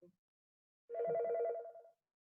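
A mobile phone rings once with a warbling electronic trill lasting about a second, clear and close in an otherwise quiet room during a job-training interview.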